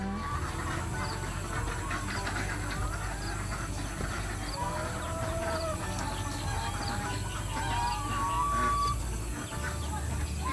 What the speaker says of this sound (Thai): ไปดูไก่กันบ้างค่ะ